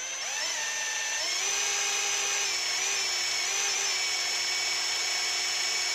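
A power drill bores through a stud on a Suzuki FZ50 moped engine, a continuous high whine with small shifts in pitch as the bit loads and eases, close and steady for the whole stretch.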